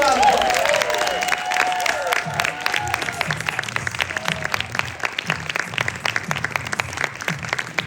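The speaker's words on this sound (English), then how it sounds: "Give her a round of applause." Audience applause at a TGI Mixtape 2023 show, a dense, steady wash of clapping from a crowd that holds throughout, with a few early whoops over it.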